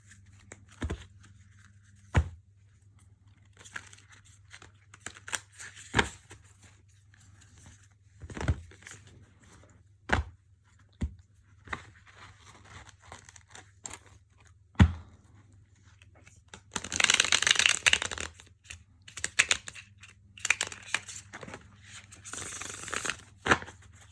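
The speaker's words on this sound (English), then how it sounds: "so this is the indie deck shuffle" Tarot cards are handled with sharp intermittent snaps and taps, then a longer flurry of riffling and sliding, close and fairly quiet.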